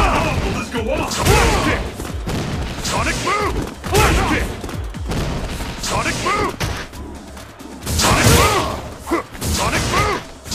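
Guile's Sonic Boom projectile attacks in an Ultra Street Fighter IV Guile vs Guile match: repeated punchy blasts and heavy thuds in quick succession, loud and busy, with a shouting game voice over them.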